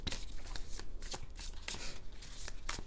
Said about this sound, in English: I just learned how to shuffle with my left hand